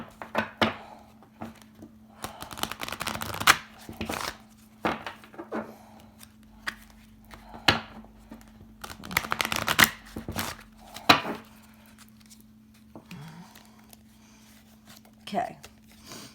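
Oracle cards are shuffled in quick, uneven bursts of papery riffling and slapping, close and fairly soft, with pauses between.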